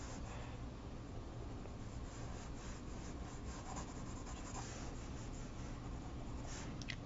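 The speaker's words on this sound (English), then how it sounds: "And you can have your pencil strokes go with the lay of the land." Pencil strokes on paper while drawing give a continuous, faint scratchy rubbing, with soft repeated strokes close up and no talking.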